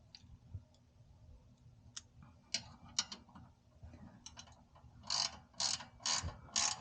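Ratchet tightening intake parts on a 2021 Subaru WRX, soft scattered clicks at first, then several louder quick ratcheting bursts close by, with no talking.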